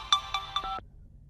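A phone ringtone plays clearly and alone: three quick, bright electronic chirps in an even rhythm, then a short falling tone, with no talking.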